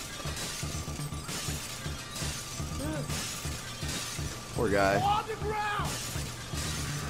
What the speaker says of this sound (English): smashing all the windows